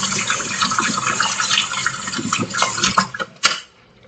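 Gravy whisk rinsed under a running kitchen tap, a steady splashing stream of water with clinks and rattles of the metal whisk, ending with a sharp knock before the water shuts off.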